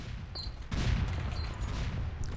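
A burst of rapid gunfire erupts partway through in the Counter-Strike-style PC game Rush Team, loud and sustained, with dense crackling shots and no speech.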